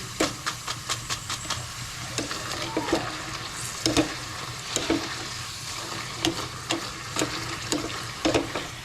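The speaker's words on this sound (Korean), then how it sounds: "포테이토칩 잠깐 안 보던 사이에 냄비에 이렇게 튀기고 있는" Potato chips fry in a pot with steady bubbling sizzle and hiss, punctuated by sharp clicks and knocks from stirring, close up with no talk.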